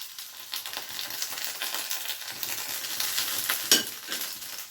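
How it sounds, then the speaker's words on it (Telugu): Fried garlic being added to okra frying in a pan and stirred in, a soft steady sizzle broken by repeated scraping stirs and one sharper clatter near the end, with no voices. "ఇదిగోండి వేయించిన వెల్లుల్లిపాయలు వేస్తాను"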